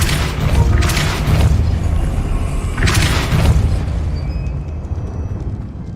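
A Depulso spell blast in Hogwarts Legacy on PS5, a loud booming burst with a whooshing rush, followed by a second swell and a fading rumble.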